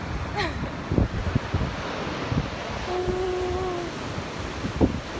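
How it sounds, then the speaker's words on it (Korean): Ocean surf on a beach in Bali rolls as a steady broadband wash with gusty wind buffeting the microphone, and a faint tonal hum drifts in midway. "선배님 역시 파도. 파도."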